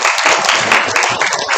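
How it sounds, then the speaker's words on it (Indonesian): A crowd at a keto and fitness Q&A session bursts into loud, dense applause, a continuous wash of many hands clapping together at close range. "Boleh tepukan buat kita semua."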